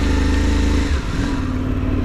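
A loud motorcycle engine runs close by, its low rumble shifting pitch as it idles and revs.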